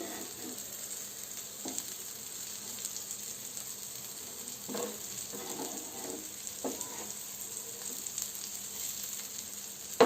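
Rajma tikki patties shallow-frying in a pan until golden brown and crispy, with a steady close sizzle throughout and a few soft scraping touches from a spatula.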